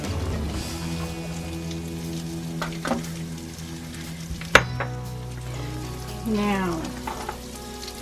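Carrots and cauliflower sizzle softly on a grill, a faint steady frying crackle with a sharp clatter of food landing midway and a brief spoken word near the start.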